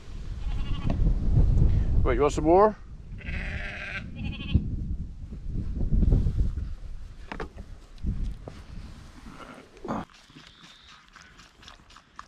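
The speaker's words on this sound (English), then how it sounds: "So those nasty big bullying sheep coming up," Sheep on a farm bleat several times, some sharp and wavering calls close by, mixed with rustling movement while a person talks to the animals.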